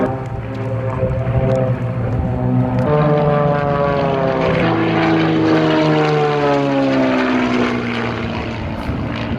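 Several propeller aircraft fly in tight formation wingtip to wingtip, their engines making a loud, steady drone with shifting harmonic tones that rise and fall as the planes pass close overhead, with no talk.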